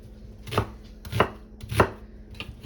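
A knife rough-chops an onion into big pieces on a board in four steady, evenly spaced thuds, heard up close with no voices.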